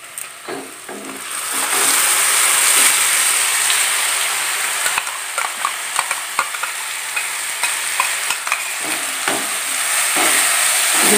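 Ground spice paste with soybean fries in a pan, a loud close sizzle and hiss broken by repeated scraping and stirring taps from a utensil, with no talking.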